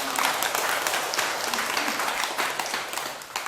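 Audience applause at a Buddhist dharma lecture, a dense steady patter of many hands clapping at moderate level throughout, with a faint voice briefly audible beneath.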